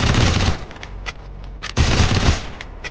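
UMP submachine gun firing in the Free Fire mobile game, loud close automatic bursts with a brief gap, then another sustained burst.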